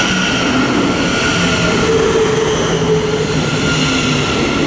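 A Thameslink Class 700 electric multiple unit pulling into Harlington station on the Midland Main Line, a loud, steady rumble and hiss of wheels and motors with faint squeal tones, close by and without speech.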